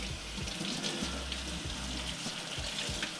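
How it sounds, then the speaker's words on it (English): Tap water runs steadily through a French horn being cleaned, a continuous hissing gush with gurgles, close and alone with no talk. "Water on again, and we're just gonna run it through that same process until the water runs clean"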